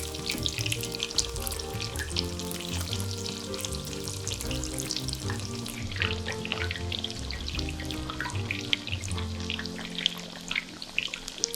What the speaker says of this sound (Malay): Tahu dan tempe pun sama, goreng sampai garing.